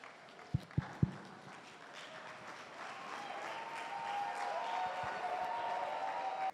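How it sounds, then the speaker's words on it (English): Sustained audience applause for a speaker at an entrepreneurship seminar, starting with a few sharp claps and swelling into a broad, steady roar of clapping that grows louder toward the end. "with a round of applause and a standing ovation, let us put our hands together for Dr. Stephen Akintayo."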